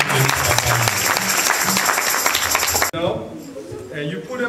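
A church congregation breaks into loud, dense applause during a worship service, sustained for about three seconds before stopping abruptly, after which a voice is heard speaking.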